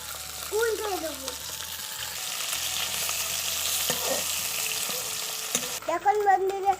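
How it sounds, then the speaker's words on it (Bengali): Fish fry in oil in a wok, a continuous close sizzle with stirring and scraping, while a voice speaks briefly at the start and again near the end. "আমি কড়াইতে দিয়েছি মাছগুলো, এবার মাছগুলো উল্টে দেবো।"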